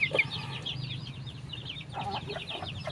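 Sixteen chickens let out of their coop cluck and chirp nearby in short, scattered calls, over a low background hum.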